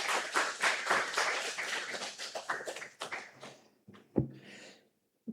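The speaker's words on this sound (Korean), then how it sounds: "하나님께 영광의 박수 올려드리면서 모시도록 하겠습니다" A church congregation claps in a dense burst that thins out and stops after about four seconds, followed by a few scattered taps and a short pause.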